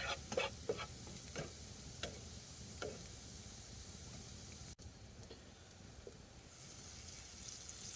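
Half a stick of butter with a whole clove of garlic sizzles in a pan inside a hot tent, a steady faint frying hiss with a few light ticks and clicks of stirring.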